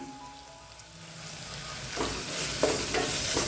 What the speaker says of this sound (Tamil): மிளகாய் தூளை எண்ணெயில் வந்து வதக்கி விட்டுறலாம்